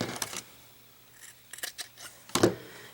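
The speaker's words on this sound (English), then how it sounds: "So just trim off all 4 corners." Scissors snip the corners off sewn fabric for a face mask, several short crisp cuts in small bursts separated by quiet pauses, close and clear with no talking.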